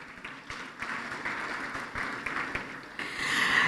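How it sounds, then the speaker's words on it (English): Audience applause at a signing ceremony during an Africa energy summit, a steady broadband wash of many hands that swells slightly toward the end. "Round of applause for a very efficient signing ceremony."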